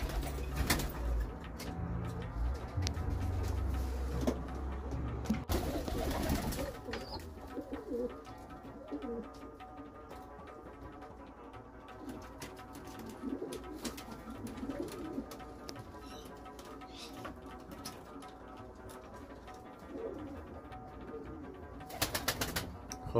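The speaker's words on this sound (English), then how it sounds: "اینجا شما میبینین اینجا کفترهای چوچگیری در چوچگیری انداخته" Pigeons coo steadily inside a loft used for breeding young birds, layered soft calls continuing throughout, with occasional wing flaps and rustling nearby.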